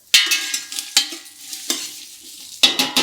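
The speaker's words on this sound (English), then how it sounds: "If it's not sizzling, it's not cooking." Onions sizzling in a hot pot for tomato soup, with a constant frying hiss broken by repeated scraping stirs from a utensil, close up.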